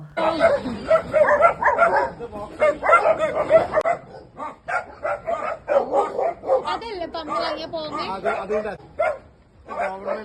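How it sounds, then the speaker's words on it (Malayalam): Several dogs, including puppies, barking repeatedly nearby, bursts of yapping and whining overlapping with people talking throughout. "ഇവിടെ ആണെങ്കിലും കുറേ ഡോഗ് ഉണ്ട് കേട്ടോ"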